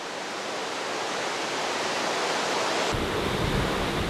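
Clean natural spring water pours down where it gathers and falls, a dense steady rushing roar that fills the clip and grows deeper and heavier near its end.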